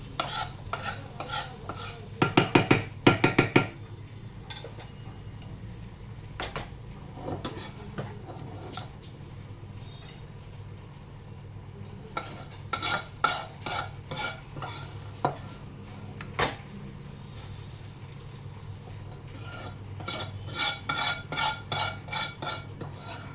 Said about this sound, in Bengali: এবারে ডালটার মধ্যে এইগুলো দিয়ে দেবো।